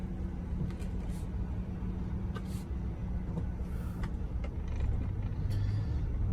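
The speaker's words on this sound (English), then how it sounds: "Oh, and here we go. Traffic once again." Steady road traffic heard from inside a car: a continuous low engine and tyre rumble with brief hisses and passing vehicle sounds, no voices.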